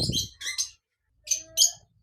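Pet lovebirds and cockatiels chirp up close in short, bright bursts, a couple of quick calls, then a pause, then another cluster of sharp tweets.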